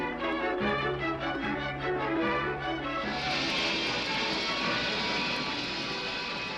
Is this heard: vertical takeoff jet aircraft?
yes